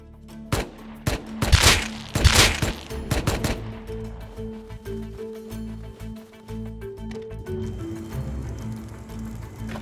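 Gunfire in Rust aimed at a SAM site: bursts of sharp, loud shots, some in quick clusters and others spaced out, fading into scattered lighter cracks over a steady background hum.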